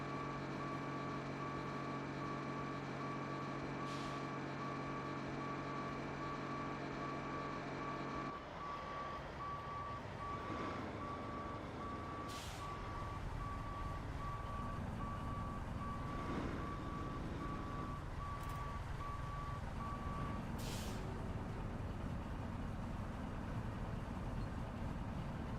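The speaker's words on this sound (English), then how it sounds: "They've modelled the twin steer on this truck" A twin-steer truck in SnowRunner idles and works its engine under a steady, evenly spaced reversing beep that runs for about twenty seconds, with occasional clanks and rattles, and no talk.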